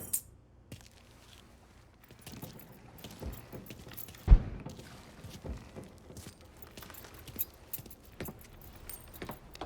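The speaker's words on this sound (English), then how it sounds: "Hey, man, grab those keys." Keys jangling in Mafia 3, a small metallic rattle over a quiet in-game ambience of faint rustles and footsteps, with one sharper clink near the middle.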